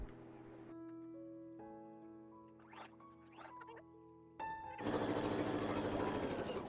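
A sewing machine stitches a kurti, starting with a soft hum and faint voice, then breaking into a loud, rapid, close-up stitching run in the last couple of seconds.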